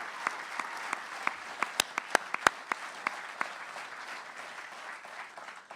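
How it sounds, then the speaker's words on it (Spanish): Applause at a book presentation on economics, an audience clapping faintly and evenly with a few sharper individual claps standing out near the start, no talk over it. "Gracias por el aplauso."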